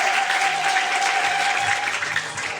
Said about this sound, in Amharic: አጨብጭቡ ለጌታ ነው።